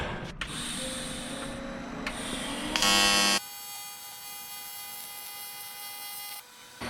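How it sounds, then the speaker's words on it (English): An electric welder buzzes steadily while joining a wastegate pipe on a turbocharged GMC Yukon XL, with a brief louder crackling burst partway through and a steady hum continuing to the end. "Let's get this thing welded up."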